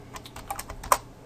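A command typed on a computer keyboard at a shell prompt, made up of a quick run of light, close keystrokes with one sharper, louder key press near the end.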